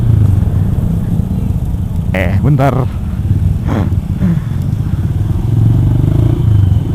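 A motorcycle with a standard exhaust idles with a steady, low rumble nearby. A few brief voices and clattering sounds come over it.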